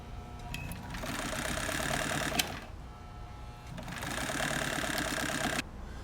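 A 1963 Kenmore 158.904 sewing machine stitches a scallop pattern, its motor running in a close, steady mechanical whir with a brief pause partway through before it starts up again.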